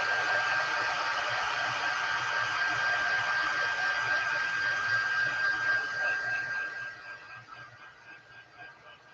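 Steady, loud blowing of a dryer used to dry a mixed media artwork, a continuous airy whoosh with a faint whine that holds for several seconds, then softens and fluctuates toward the end.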